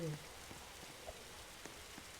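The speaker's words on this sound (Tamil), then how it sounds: "இது என்னடா மழை பெய்யுது." Rain falls outdoors as a faint, steady patter with a few scattered drop taps, soft and distant throughout.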